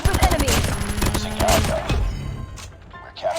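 MK2 rifle fire in Call of Duty Mobile, loud rapid shots up close that fade after a couple of seconds, with someone talking over the game.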